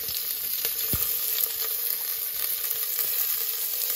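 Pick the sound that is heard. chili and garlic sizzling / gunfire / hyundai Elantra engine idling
chili and garlic sizzling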